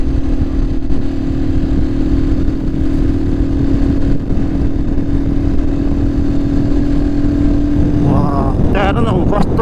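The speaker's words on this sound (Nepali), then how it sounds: "माथि माथि आएपछि बाइकको पावर पनि घट्दै जाने" A motorcycle engine drones steadily and close while climbing uphill on a mountain ride toward Muktinath, its low hum unbroken, with a voice speaking over it near the end.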